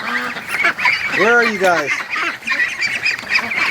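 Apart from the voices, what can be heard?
Muscovy ducks calling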